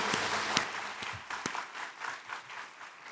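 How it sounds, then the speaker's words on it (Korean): A church congregation applauds indoors during a worship service, a dense wash of clapping with a few sharper individual claps standing out, steady for a few seconds. "영광의 박수 하나님 드리겠습니다"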